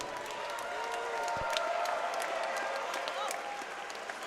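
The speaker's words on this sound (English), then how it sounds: "please put a big round of applause together for both of the fighters in the center of the cage" Crowd applause and some cheering for two fighters in the cage after a three-round MMA bout at a Belleville, Ontario event, a continuous arena-wide wash of clapping with an announcer-style voice faintly mixed in.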